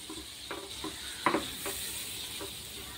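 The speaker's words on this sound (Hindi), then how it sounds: "इसे हम 1 से 2 मिनट तक रोस्ट करेंगे।" Butter and flour roast in a pan on a slow flame with a soft, steady sizzle. A few light stirring scrapes stand out above the quiet frying hiss.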